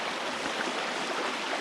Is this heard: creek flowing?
yes